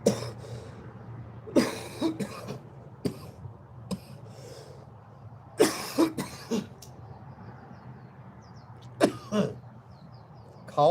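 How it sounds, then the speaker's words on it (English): Several harsh coughs in separate bursts, some in quick pairs, close by against a quiet background with gaps between fits. "Coughing session."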